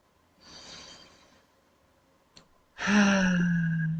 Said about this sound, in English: let's just take a nice slow breath in through our nose and a long, gentle breath out through our mouth